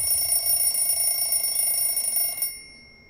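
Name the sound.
alarm clock ringing in Everlasting Summer video game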